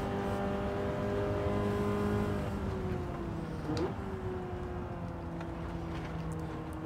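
A BMW race car in Gran Turismo 7 drives with a steady, continuous engine drone and tyre noise, holding a fairly constant pitch with a slight dip midway through.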